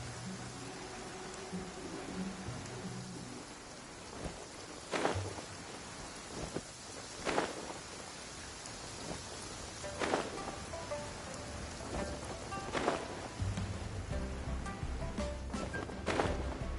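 Steady rain in the video game Genshin Impact hisses as a dense, even wash, with soft thuds recurring every few seconds and faint tonal game sounds underneath.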